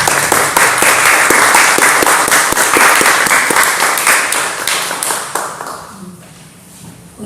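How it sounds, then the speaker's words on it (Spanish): An audience in a lecture hall applauds to welcome two guitar masters at a conference on the Peruvian guitar, dense clapping sustained for several seconds before thinning out and fading near the end. "a quienes pedimos un fuerte aplauso"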